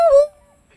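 A dog yelps once in a Hindi-language horror game, a short, loud, rising whine that cuts off quickly and leaves near silence.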